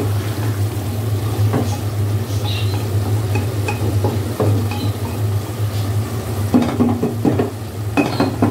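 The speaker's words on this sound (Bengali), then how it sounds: "তো এটা ভালো করে কষিয়ে তারপরে ঝোল দিয়ে দিব" Beef with chana dal stir-frying in a pressure cooker, a loud continuous sizzle with a low steady hum, overlaid by repeated scraping and clanks of a spoon against the pot, close up and with no voices.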